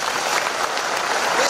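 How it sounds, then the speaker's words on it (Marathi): Audience applause at a Marathi speech program on Shivaji Maharaj's history, a steady dense wash of clapping filling the whole short moment without a break. "सर्वांनी हात वर करून टाळी वाजवा."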